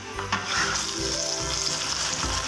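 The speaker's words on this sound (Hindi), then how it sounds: "अब मैंने इसको तकरीबन 3 से 4 मिनट प्याज में अच्छे से फ्राई कर लिया है" Mutton pieces frying with onions in a pan for a balti gosht, a steady close sizzle with soft stirring scrapes running throughout, no talking.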